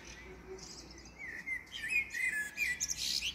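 Bright, fluting blackbird song with short warbled phrases rising and falling, moderately near over a faint background hiss, no voices.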